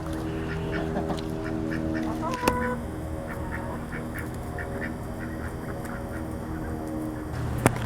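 Ducks quack repeatedly in a farmyard pen of turkeys, chickens and ten-week-old Black Australorp meat birds, with other fowl calls around them and a steady rustling background of moderate loudness.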